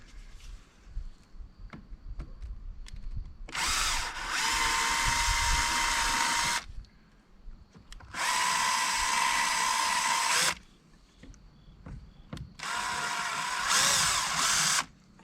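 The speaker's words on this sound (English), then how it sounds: "Might have to ream that out a little bit, Jim." A power drill reams out a hole for a rear spoiler wicker extension on a C8 Corvette, running in three loud bursts of several seconds each, with quiet handling noises and small clicks between them.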